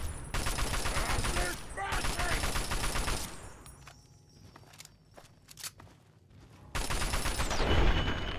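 Gunshots in a Fallout video game, rapid repeated shots in two loud bursts separated by a quieter gap with scattered sharp hits.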